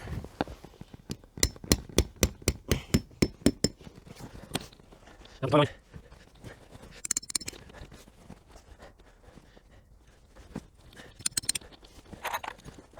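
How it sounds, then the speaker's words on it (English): A quick series of sharp metallic strikes of a claw hammer driving tent pegs, about a dozen evenly spaced blows, then scattered knocks and rustling with some faint voice. "So I need my hammer."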